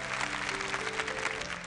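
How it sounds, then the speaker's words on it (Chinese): A studio audience at a televised history talk bursts into steady, dense clapping that fills the short moment, with faint tonal traces underneath. "掌声鼓励！"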